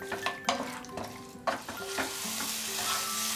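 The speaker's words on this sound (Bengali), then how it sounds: "নাড়তে নাড়তে এটাকে আমি আরো 1 মিনিট কষিয়ে নেব।" Bengali vegetarian mutton curry being stirred and sautéed with spices in a pan: repeated scraping strokes of a spatula against the metal over a constant sizzle that grows louder and denser toward the end.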